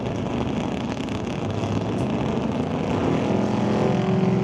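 Drag race cars, among them a 1967 Ford Falcon, at an NHRA Summit ET Series finals meet in Mission, roar continuously down the strip in a loud, steady engine drone that swells slightly toward the end.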